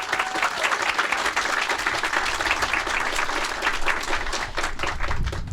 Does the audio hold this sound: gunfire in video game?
no